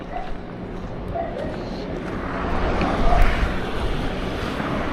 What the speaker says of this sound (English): You heard the dog.